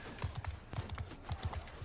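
Horse hooves galloping across a battlefield in Mount & Blade II: Bannerlord, a quick steady clip-clop rhythm of repeated thuds running through the whole stretch at moderate, close volume.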